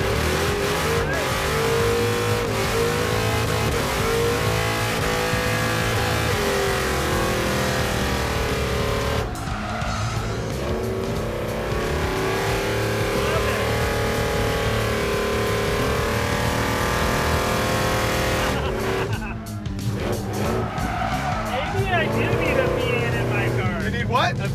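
A Chevy muscle truck with a V8 drives and revs, its engine a loud steady roar that swells and drops through the whole run, with people talking excitedly over it.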